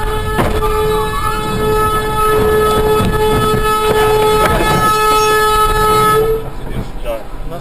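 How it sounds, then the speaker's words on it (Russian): A train horn sounds in long sustained tones as a train strikes a car at a Russian crossing, loud and close over engine and wheel noise, with people talking in the background and the horn cutting off near the end. "Нас поезд сбил."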